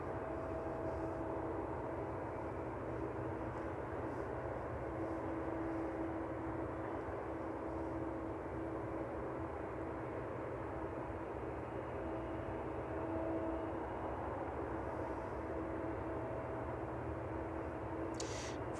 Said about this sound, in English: So it looks like that 767 just making its way down.